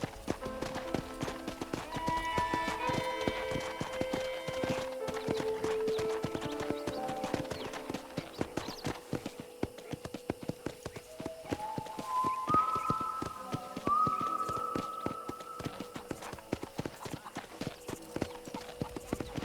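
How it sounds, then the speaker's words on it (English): Horse hooves clip-clopping in a steady rhythmic gait while riding in the Xbox 360 game Red Dead Redemption, clear and close over a whistled melody of background music. "let's see if you can still ride a horse"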